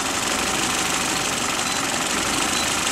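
A car engine runs steadily during a duty-cycle fault diagnosis, giving a loud, constant broadband drone with a faint rapid knock and no pauses.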